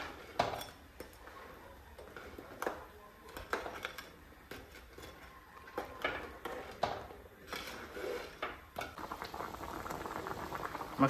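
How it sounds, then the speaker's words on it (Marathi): Crab curry boiling in a pot, quiet bubbling and popping with soft irregular patters and an occasional faint clink, close and alone. "तुम्ही बघू शकता आपल्या मस्त कालवणाला आलेले उकळी"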